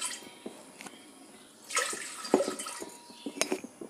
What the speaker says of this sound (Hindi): अब इसमें 2 गिलास पानी डालेंगे।